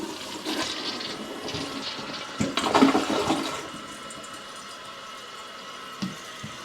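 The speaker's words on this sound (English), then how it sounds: "You guys get to see the first flush." A household toilet flushing for the first time after a sewer line repair, a steady rushing swirl of water with a louder surge midway, heard fairly close in a quiet bathroom.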